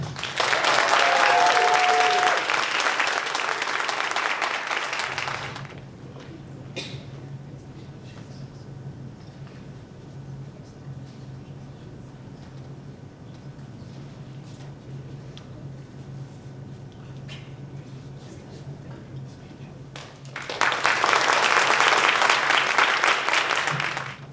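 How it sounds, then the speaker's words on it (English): Audience applause fills a Cum Laude Society induction ceremony, loud broadband clapping for about five seconds, dropping to quiet room hum, then a second strong burst of applause near the end. "And once again, let's give a round of applause to all of our 2024 inductees."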